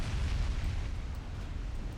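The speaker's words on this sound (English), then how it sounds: "Multiple 4 torpedo hits and 2 dots on the enemy battleship." Heavy rumbling explosions from torpedo hits on an enemy battleship in the naval strategy game Ultimate Admiral Dreadnoughts, a dense continuous roar of booms filling the whole two seconds with no talking.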